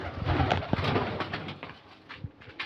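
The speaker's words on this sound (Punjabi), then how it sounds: "ਲਾਗੇ ਸਾਰੀਆਂ ਹਨ ਵੱਡੀਆਂ ਕਬੂਤਰੀਆਂ ਨੇ" Pigeons coo softly and repeatedly nearby, with soft rustling and small bumps around them.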